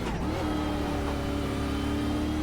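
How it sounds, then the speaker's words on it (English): Race car on the Chicago street circuit, its engine held at a steady, fairly loud mid-pitched drone after a quick throttle change, alone without voices. "You hear him out of the throttle waiting for that car to rotate. Then on the power as quick as possible."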